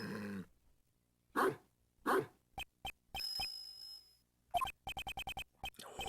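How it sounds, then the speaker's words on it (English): Dog barks from the Nintendo DS game Gyakuten Kenji 2, a few sharp separate barks followed by a fast string of short yips, set against quiet game sound effects and a sustained electronic tone. "No, it's a dog."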